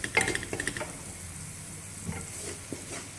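Flour stirred and cooked in a pan for chicken bread: a few quick spoon scrapes and clinks against the pan at the start, then soft faint sizzling with occasional light taps, no talking.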